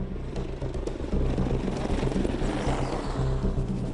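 An Apache attack helicopter flies nearby, its rotor thumping in a steady rapid rhythm over a loud engine roar.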